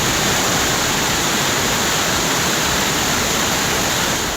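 Roaring floodwater in swollen rivers during flooding in Bihar and Uttar Pradesh, a loud, dense, unbroken rush of churning water with no pauses.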